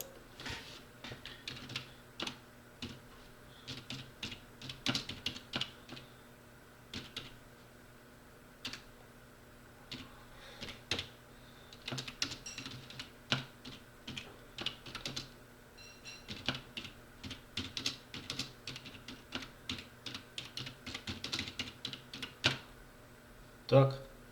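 Clicky keystrokes on a computer keyboard, rapid and irregular with brief pauses, fairly quiet and close, with a faint steady hum underneath.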